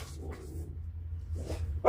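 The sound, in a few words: dogs barking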